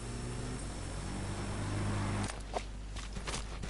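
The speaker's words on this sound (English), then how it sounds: "I can hear a car." A car engine drones low in Metal Gear Solid V: The Phantom Pain, a steady hum with a tonal whine heard from a distance, followed by soft footsteps and rustling.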